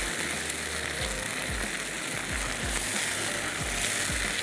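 Food sautéing in a pan for matar paneer sizzles loudly and steadily, with a regular rhythm of low thumps from stirring.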